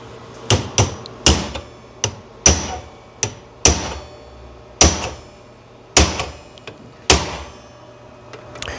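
A hammer drives a wide chisel into the edge of a sheet-metal patch near a car's headliner bow to fold it down. About a dozen sharp, ringing metallic blows come at an uneven pace, close and loud, with no talk.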